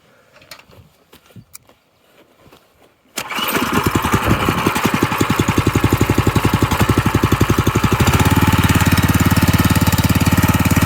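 A rotary hoe engine with a swapped-in motor is pulled over and catches after quiet handling noises, then runs loudly nearby with a steady fast chugging beat that picks up as the throttle opens.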